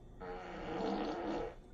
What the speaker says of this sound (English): give me a wet fart. Here comes a wet fart.